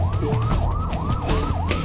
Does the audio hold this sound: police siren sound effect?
yes